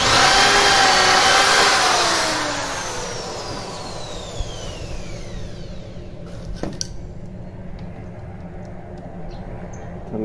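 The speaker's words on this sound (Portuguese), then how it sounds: "Eu vou furar bico fino e vou estar parafusando" A power drill fitted with a thin bit bores into hard wood while a nest box is built: a loud whirring burst that sweeps downward in pitch as it spins down over about three seconds, followed by quieter scattered handling clicks.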